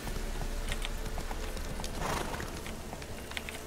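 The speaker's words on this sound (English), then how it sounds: "we're going to summon up our trusty steed, who is a teleporting demon horse." Horse hooves in the Witcher 3 video game, a teleporting demon steed galloping through marshes, give a continuous dense run of hoof clatter under a loud, steady wash of ambient game noise.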